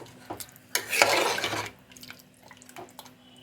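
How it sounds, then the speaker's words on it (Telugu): A spoon stirs watery Chettinad chicken gravy in a pan, making close sloshing, liquid swirls and light scrapes against the metal in one strong burst, then softer intermittent stirring. "ఇప్పుడు ఒకసారి కలిపేద్దాం."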